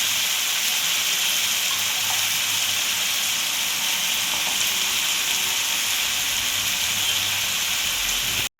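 Finely chopped amaranth leaves sizzle and hiss steadily in a pan with fried onions, a dense, continuous frying sound with no talk, ending abruptly.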